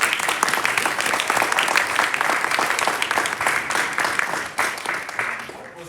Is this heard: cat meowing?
no